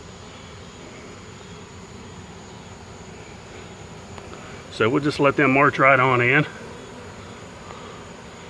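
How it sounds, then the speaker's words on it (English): A large swarm of honey bees shaken into the bed of an old pickup truck gives a steady, soft background buzz, with someone talking close by partway through. "There's a lot of bees in that."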